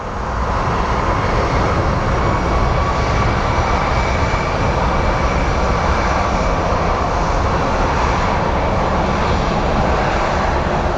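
An Airbus airliner roars loudly and steadily at Phoenix Sky Harbor airport, its broad engine rumble filling the whole stretch without pause.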